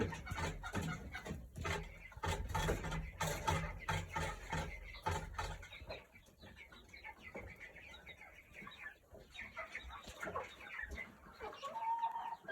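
Chickens cluck and cackle nearby, busy and overlapping at first, then quieter scattered clucks with some rustling in the background.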